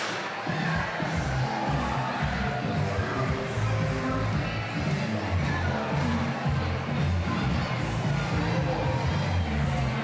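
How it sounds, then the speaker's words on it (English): Crowd at the Kenora Bass International fishing tournament cheering and applauding the kids champions on stage, a dense, steady roar of claps and shouts, including children's voices, sustained loud throughout. "Give them a big round of applause"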